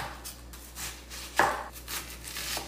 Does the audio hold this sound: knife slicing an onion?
yes